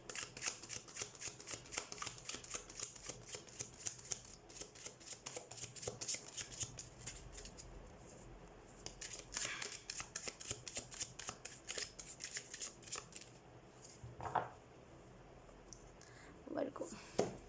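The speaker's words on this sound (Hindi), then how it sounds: "तो सबसे पहले हम कार्ड शफल कर लेते हैं वर्गो" Tarot cards being shuffled for a monthly reading, a near, continuous riffling and flicking of the deck with soft rhythmic slaps, a few louder clicks toward the end.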